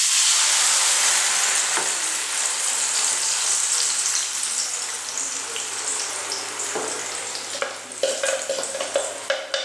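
Crushed greens sizzle steadily in hot oil in a frying pan, a loud, dense hiss that eases slightly toward the end, with a few soft clinks and scrapes near the close.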